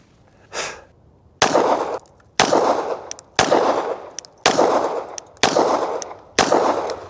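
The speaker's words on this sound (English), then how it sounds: "now I'm going to shoot at one of the vertical strips." Glock pistol fitted with a Johnny Glock trigger fired at a target, six sharp shots spaced about a second apart, each a loud close crack with a short ringing decay, after a fainter earlier pop.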